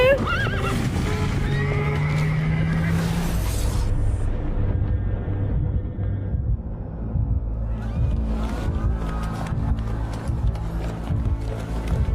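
A cartoon horse whinnies in the first few seconds, a drawn-out neigh over busy background music and effects, just before a road accident at a rainy-season fair.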